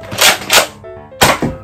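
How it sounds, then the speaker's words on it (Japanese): Nerf Fortnite Legendary TAC blaster fired with a priming-handle cock and trigger pull: two quick close thunks, a short pause, then another sharp burst of plastic clacks, loud and without speech. "プライミングハンドルでコッキングしてトリガーで撃つと。"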